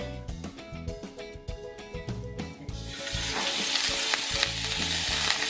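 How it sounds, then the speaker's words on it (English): Chicken kebabs sizzle on an oiled, preheated grill at medium heat, a close, steady hiss and crackle that builds and grows denser partway through, with some clattering at the start and no talk. "Listen to that sizzle"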